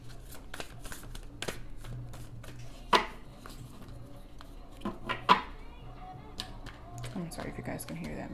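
Oracle cards shuffled by hand, soft papery taps and riffles scattered over several seconds with a few sharper slaps, close but fairly quiet over a low hum of background music.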